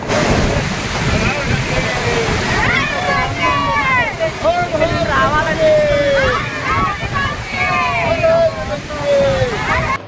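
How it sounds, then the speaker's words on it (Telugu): The Ganga river rushes forcefully past its bank near Gangotri, beneath snowy Himalayan peaks, as a steady, continuous broadband roar of water. People talk over the top of it throughout. "రివర్ గంగా ఎంత ఫోర్స్గా వస్తుందో గంగా"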